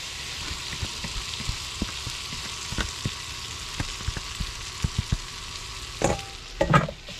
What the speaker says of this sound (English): you want it hot so it sizzles when you put it in there.